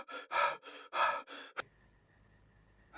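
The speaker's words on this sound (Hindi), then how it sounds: "फिर भागते भागते एक जगह थककर हाँफने लगता है" An exhausted man pants after fleeing in a horror story, with four heavy gasping breaths in quick rhythm, close and loud, followed by a short sharp sound and near silence.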